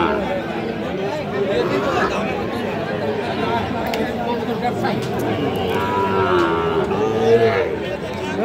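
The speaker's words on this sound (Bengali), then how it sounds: "গরুকে পানি খাওয়াচ্ছে" Cattle at a busy livestock market while a cow is being watered, with a few moos and shuffling heard beneath constant crowd chatter and nearby voices talking throughout.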